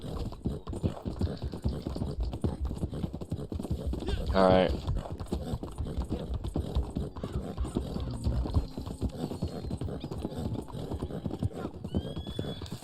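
Horse hooves clip-clop steadily in Red Dead Online as the mount keeps moving, a rhythmic trotting beat with a short whinny partway through and game noise underneath.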